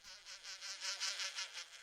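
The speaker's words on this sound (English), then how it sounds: "Paper wasps in Al's house." Paper wasps buzz in a radio drama scene: a short, steady, pulsing drone that swells and fades in rapid waves, close and alone with no voices.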